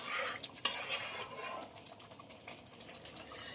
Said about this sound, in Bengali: সবকিছু দিয়ে আবারও খুব ভালো করে মিশিয়ে দিলাম।